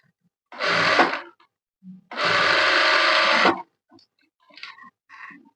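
A sewing machine stitches skirt fabric in two close bursts, a short run and then a longer steady whir, followed by light handling clicks.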